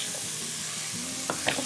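Tomatoes and vegetables for a peanut and coconut jollof cooking in a pot, giving a steady soft sizzle with a few brief utensil clinks and stirring knocks near the end.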